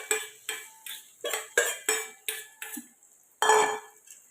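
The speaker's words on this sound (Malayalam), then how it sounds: "അതിലോട്ട് നേരത്തെ അരിഞ്ഞു വെച്ച ചെറിയ ഉള്ളി അതിലോട്ട് ഇട്ട് കൊടുക്കുക" A utensil stirs chopped shallots into Kerala beef roast in a pan, giving about nine rhythmic scraping strokes, close and distinct, with a longer final scrape.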